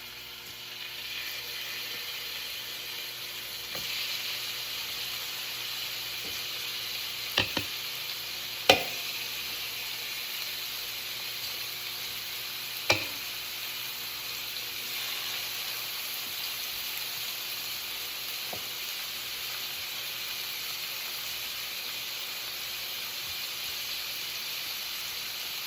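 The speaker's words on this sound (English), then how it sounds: "Let me check a sizzle." Hot frying pan sizzles with a steady hiss while being heated for pork, punctuated by a few sharp clicks and pops, no voices.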